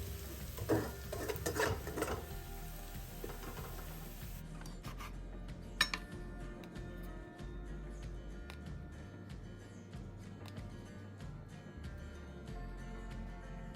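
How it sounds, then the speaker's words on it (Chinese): Fried shallots being stirred in oil in a pan, with steady scraping and stirring strokes over a continuous low sizzle, close and moderately loud, no talk. "煎中要记得将油葱拌一拌。"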